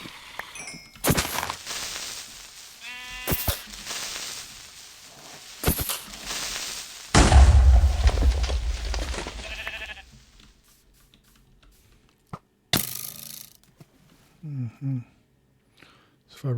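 Minecraft sheep bleat in short, wavering cries, a couple of separate bursts spread among sparse clicks, thuds and other blocky game noises, with quiet gaps in between.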